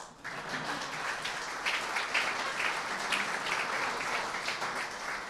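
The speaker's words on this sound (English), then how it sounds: "Go ahead and applaud." Applause from the audience at a mayoral State of the City address in Elmhurst, a dense, sustained clapping crowd that starts abruptly and holds a steady level for roughly five seconds with no speech on top.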